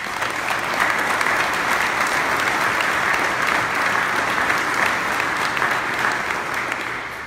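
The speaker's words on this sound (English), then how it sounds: "why don't you give yourself an applause as well" Steady, dense applause from a large audience of graduates, families and friends at a fire academy graduation ceremony, loud and sustained throughout with no pauses.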